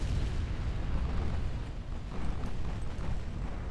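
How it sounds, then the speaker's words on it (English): An ammunition detonation explosion aboard a warship in the naval strategy game Ultimate Admiral Dreadnoughts, a continuous heavy rumbling roar with dense low booming that holds steady for several seconds. "Ammo detonation and a torpedo hit."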